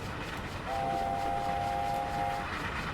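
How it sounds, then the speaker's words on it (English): A steam whistle from an LNER A4 Mallard locomotive in a train simulator game sounds as a steady two-tone chord for nearly two seconds over the continuous rumble of the moving train, with no talk. "I love an A4 whistle. One of the best noises out there."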